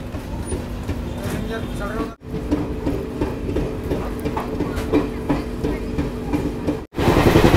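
A Jaipur Double Decker Express train arrives at the second platform of a station, its loud, steady rumble and rail clatter continuing throughout, with brief cuts in the sound and station chatter mixed in.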